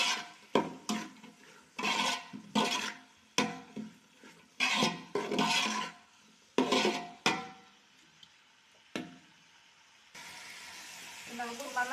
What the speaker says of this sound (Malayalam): അതിലേക്ക് കുറച്ച് മഞ്ഞൾപ്പൊടി കൂടി ചേർത്ത് കൊടുക്കാം. നന്നായിട്ട് ഇളക്കി കൊടുക്കാം.